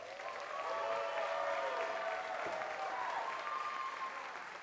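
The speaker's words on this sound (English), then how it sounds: "Let's give our candidates a round of applause." An audience applauds debate candidates at a California 13th Congressional District debate, a steady sustained round of clapping from a crowd, moderately distant and without talk.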